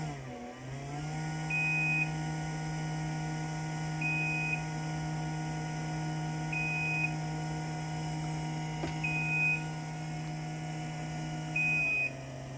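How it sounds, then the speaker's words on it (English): A LiftMaster 87504-267 garage door opener motor runs with a steady, close electric hum and drone, overlaid by a faint beep repeating about every two and a half seconds, winding down at the end as it soft-stops. "you can hear the way that motor sounds."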